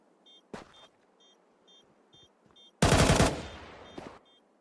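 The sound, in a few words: gunfire in the video game Counter-Strike 2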